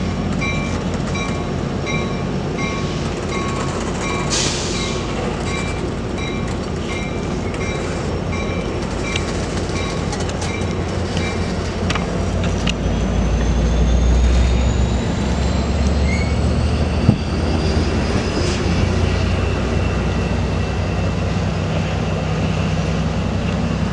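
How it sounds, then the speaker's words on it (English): Amtrak passenger train 719 pulls out of Modesto station bound for Oakland, a steady loud rolling rumble with faint wheel clicks and a rising whine that swells briefly midway, no talking. "And there goes Amtrak 719 to Oakland Jack London Square."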